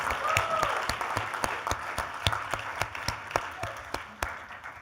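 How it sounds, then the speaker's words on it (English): An audience at the ASU Innovation Open 2023 applauds a speaker, steady clapping that slowly thins into scattered, distinct claps as it winds down. "Can we get a round of applause for Casey?"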